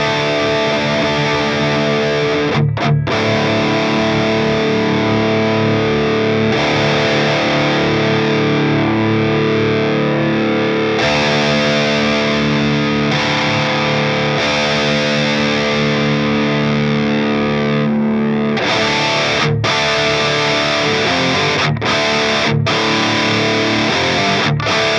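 Heavily distorted electric guitar played through a Mesa Boogie 90s Dual Rectifier on its orange channel, a loud, sustained chugging and ringing tone with brief stops and restarts, no voices.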